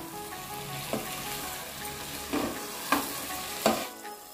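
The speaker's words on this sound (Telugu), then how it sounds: "గుడ్లు చెదరకుండా ఊరక పై పైన ఇలా తిప్పుకుందాము" Boiled eggs being turned gently in hot oil in a pan for egg pulusu, a soft steady sizzle with a few light scraping stirs at intervals.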